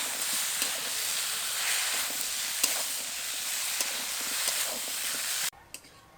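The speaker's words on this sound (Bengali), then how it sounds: "আদার কাঁচা গন্ধটা চলে যাওয়া পর্যন্ত এখন ভালো করে নেড়ে চেড়ে নেব।" A spatula stirs vegetables with ginger and green chilli paste in a hot pan for a vegetarian Bengali curry, producing a loud steady sizzle with scraping strokes that cuts off abruptly near the end, leaving near silence.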